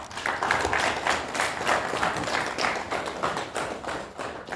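Audience applause at a business plan competition prize ceremony, a continuous dense patter of clapping hands that stays fairly even and slowly fades toward the end.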